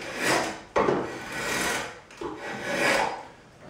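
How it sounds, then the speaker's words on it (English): A draw knife shaving wood on a shave horse, with two or three long rasping strokes separated by brief pauses, close and clear and with no talk. "clamp down with your feet, and then you use a draw knife"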